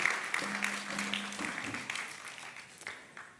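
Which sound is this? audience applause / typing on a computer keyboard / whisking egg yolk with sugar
audience applause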